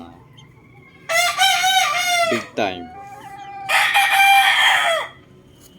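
A Boston Roundhead gamecock crowing loudly and close, two long full crows separated by a brief pause, with someone speaking briefly in between.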